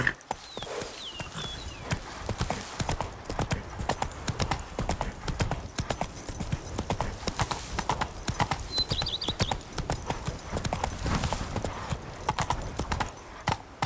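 Clip-clop of Roach, Geralt's horse in The Witcher 3, galloping in a rapid, even hoofbeat rhythm that runs throughout, with a brief snort or whinny and light game ambience around it.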